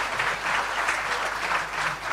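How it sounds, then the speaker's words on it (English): Sustained applause from an awards-ceremony audience honouring an instructor, a dense steady wash of many hands clapping throughout with no voices over it. "Round of applause for their instructor."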